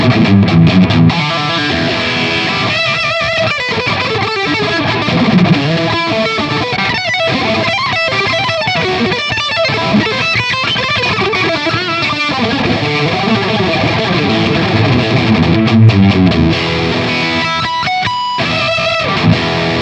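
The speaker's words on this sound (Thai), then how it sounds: "แต่คราวนี้จะลองเล่นกับเสียงแตกนะครับ" A loud, gritty distorted Thomas Blug Signature electric guitar plays continuously, with crunchy chords and short riffs ringing through the whole stretch.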